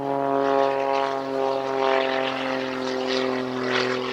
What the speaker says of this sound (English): a highly modified aeroplane known as the Jet Pitts